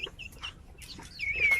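A sick chicken with a twisted head clucks in a few short, soft calls, followed by a thin, higher cry near the end over quiet background noise.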